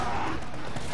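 Rapid burst of video-game gunfire crackling densely throughout a split second of play, loud and close with no pause between shots.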